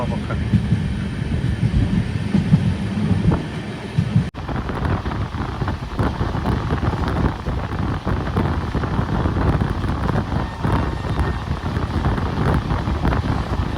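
A weekly express train from Secunderabad to Goa running near Mahabubnagar, a continuous loud rumble with heavy wind noise, and a sharp jolt partway through.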